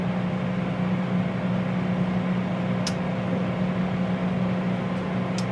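A Paula Deen 10-quart air fryer running while cooking unsprayed, unbreaded chicken wings, giving a steady, fairly quiet fan hum with a low mechanical drone that holds evenly throughout.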